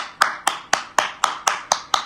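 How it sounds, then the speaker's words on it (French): Rhythmic, evenly spaced claps at a patriotic rally, about eight sharp beats in two seconds, close and crisp with no talk over them. "On applaudit Nayo."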